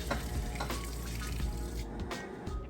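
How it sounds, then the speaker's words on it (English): A Maytag Bravos top-load washer fills with clean water for its rinse, a steady rushing, splashing stream that runs on without a break, close and continuous, with no voices. "Then it's going to fill back up with clean water, rinse"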